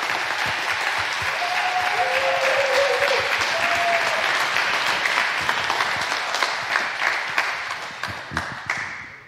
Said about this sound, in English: That was a good applause.